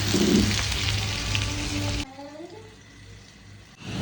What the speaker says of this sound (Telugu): ఫిష్ ఫ్రై నేనైతే ఫస్ట్ టైం చేస్తున్నాను